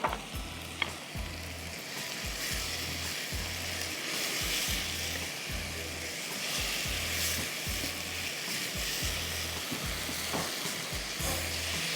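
Ginger and garlic frying in oil in a pot as the base for a Gujarati curry, a steady close sizzle with regular stirring scrapes throughout and no talking.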